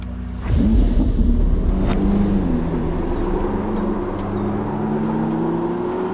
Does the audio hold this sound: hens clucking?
no